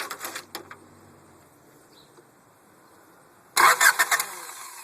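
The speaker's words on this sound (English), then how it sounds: "just gonna go ahead and start it with the push button here." A 1994 Honda Accord low on gas being started with its push button; a short starter crank opens, then after a quiet gap a louder burst of cranking near the end, with no clear catch and idle.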